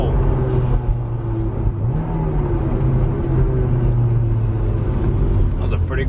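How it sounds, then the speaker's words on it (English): Honda S2000 engine revving through a third-gear pull, a loud, sustained rising engine drone heard from inside the car, climbing in pitch over several seconds. "Especially for a Honda. That's a third gear pull."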